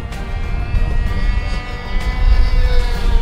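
Large 2-meter RC model airplane in flight, its propeller engine droning loudly and steadily with a slight rising buzz, close by and outdoors.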